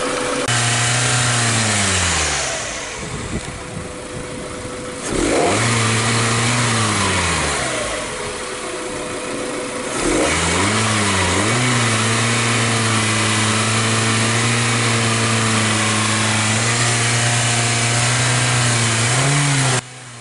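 A 2006 Hyundai Tucson engine runs steadily with no talk, rising and falling through several rev changes in the first ten seconds, then settling into a constant hum; it is losing power while driving and has a P0507 idle fault.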